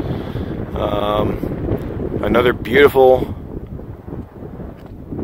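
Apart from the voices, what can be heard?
wind blowing on a mountain trail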